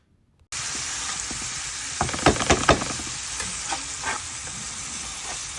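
Turmeric, Kashmiri chilli powder and tomato paste fry for a mustard fish curry: a steady close sizzle starts abruptly, with a cluster of stirring scrapes in the middle and no talk.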